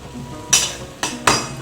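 Grated coconut is stirred and dried in a pan over medium-low gas, heard as three short, scraping swishes close up, separated by brief pauses.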